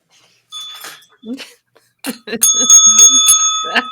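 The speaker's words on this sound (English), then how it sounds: "Where's my bell?" A bicycle bell rings repeatedly in quick bright dings, its tones lingering, while people talk and laugh around it.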